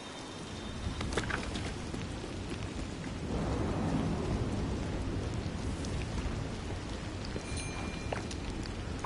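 Steady rainfall with a swelling rumble of thunder in a Disney Dreamlight Valley game world, broadband hiss holding throughout and a louder roll building midway, no talking.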